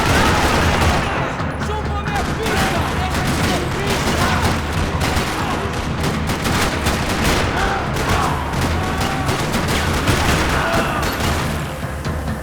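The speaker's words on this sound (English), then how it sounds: "Another parking lot rattling with gunfire." Sustained gunfire rattles across a parking lot in the Max Payne 3 video game, with dense, continuous bursts of automatic and single shots that stay loud for the whole stretch.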